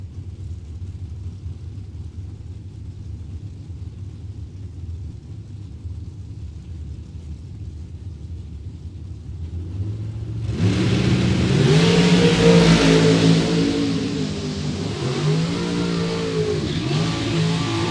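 Drag racing cars at a World Super Pro Challenge event: a low idling rumble, then at about eleven seconds engines roar up sharply and stay loud, with rising accelerating tones as they launch down the strip.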